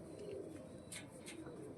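Soft, low cooing from pet racing pigeons, faint and close in a quiet setting, lasting under two seconds.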